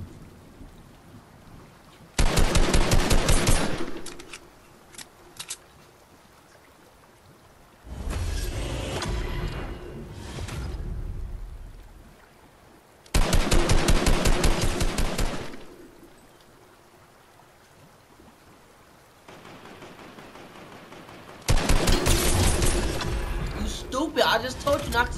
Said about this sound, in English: Bro, why so many people all shooting at me?